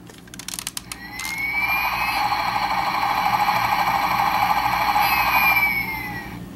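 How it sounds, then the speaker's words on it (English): Transformers Animated Megatron toy helicopter producing electronic engine and rotor sound effects, a few clicks and button taps first, then a sustained whining, buzzing tone with pulsing rotor flutter that holds for several seconds before cutting off. "gives us some very cool engine sound effects and rotor sound effects"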